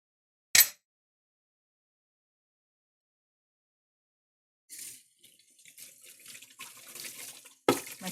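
Water from a kitchen tap runs in a short burst, then flows again unevenly as food is rinsed under it, close and moderately loud, with splashing variations toward the end.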